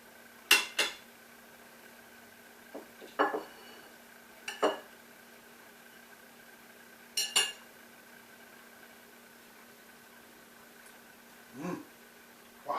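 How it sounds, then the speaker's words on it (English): Knife slicing through a cooked Boston butt pork roast after six hours of cooking, heard as a handful of sharp, brief clinks and scrapes against a plate or board, spaced irregularly and fairly close, with no talk. "I could pull it apart like a fork, but I like to just slice it"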